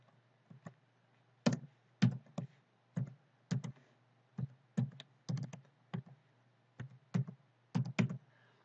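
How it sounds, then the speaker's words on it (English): Clicky keystrokes on a computer keyboard as numbers are typed in, coming in short irregular bursts of taps with brief pauses, close and fairly quiet, with no talking. "You can type in those numbers."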